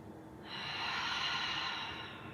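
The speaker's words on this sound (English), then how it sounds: "Nice, full, strong, deep breath." A long, deep breath during a yoga flow, one steady airy exhale or inhale lasting about two seconds, close and soft, with no talking.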